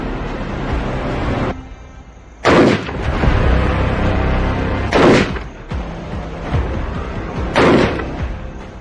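Three loud rifle shots ring out at a live shooting range, each a sharp blast spaced a few seconds apart with a short rumbling tail, fired at a target with no talking.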